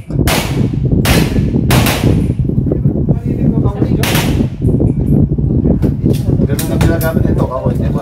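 A 2011 pistol fires in standard division practical shooting: a rapid string of loud, sharp gunshots with short gaps between them, and a voice talking over the shots.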